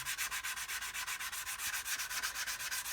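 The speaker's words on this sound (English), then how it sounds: "we're going across there, across the sanding marks, and removing" Hand sanding across the grain of a workpiece to remove marks left by 150-grit paper: a steady back-and-forth rasping in a quick, even rhythm, close and continuous with no talking.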